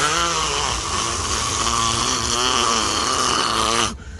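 A voice imitates snoring, a loud, continuous rasping drone with a rough buzzing texture that holds steadily for about four seconds before cutting off abruptly.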